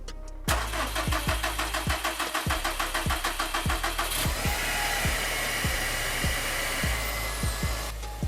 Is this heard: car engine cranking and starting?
yes